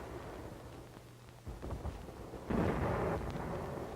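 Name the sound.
artillery fire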